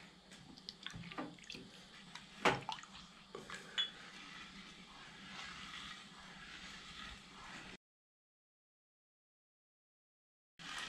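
Tamarind water mixed with salt and chili powder being stirred in a bowl, giving soft liquid swishing and a few light clinks of a utensil, close but quiet, before the sound cuts out to silence.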